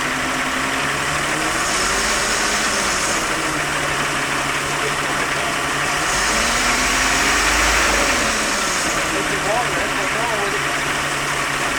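Car engine idling and revving after a Denso control module replacement, a steady running drone that swells and settles in a few rev cycles, close and loud with someone talking over it.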